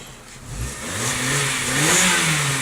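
A Volkswagen Golf 1.4 FSI engine revs up and down in smooth rising and falling waves, fairly close, with no voices.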